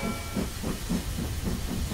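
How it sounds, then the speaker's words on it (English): A cartoon steam train chugs off with a rhythmic, evenly pulsing hiss and puff, steady and fairly close over a continuous noisy background, with no talking. "Let's go, Mr. Train."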